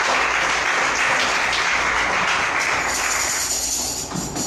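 Church congregation applauding together, a dense continuous clapping that stays loud and even throughout, with no voices rising above it.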